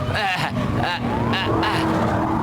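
A car speeding away during a movie chase: revving engine and squealing tires, loud and close, under excited shouting voices.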